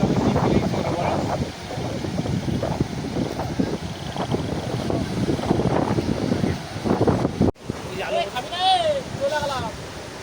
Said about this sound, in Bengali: সেই হাওয়া দিচ্ছে বন্ধুরা